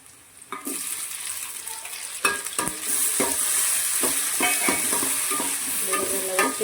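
Onion and tomato fry in a pan for a Mangalorean-style chicken saaru, with a steady, close sizzle and several sharp stirring clinks and scrapes of the spatula throughout.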